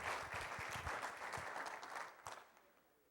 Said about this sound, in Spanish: quiero darle un aplauso a él